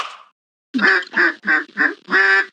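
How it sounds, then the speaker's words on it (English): Five loud, close duck-call quacks in a quick rhythmic burst, the last one drawn out, heard alone in the You Don't Know Jack trivia video game. "I'm playing with some of these duck calls I ordered online."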